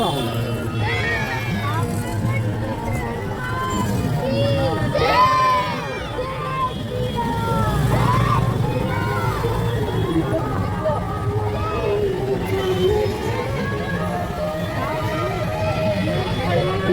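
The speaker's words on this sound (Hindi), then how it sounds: "और भीड़ भी बहुत ज़्यादा हो गई थी" A dense street crowd gathers along a procession of school children's tableaux, a continuous hubbub of many voices with occasional louder shouts, and nearby people talking throughout.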